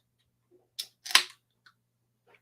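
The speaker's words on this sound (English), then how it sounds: "that is the sound of a beer being opened" Beer can or bottle cracked open during an outdoor bushcraft session: a short click followed by a brief louder hiss-pop, then faint small clinks, quiet and fairly close.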